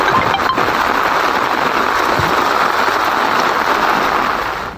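Steady heavy rain in Jodhpur, India, a dense continuous hiss of drops on surfaces, loud and close, with no speech.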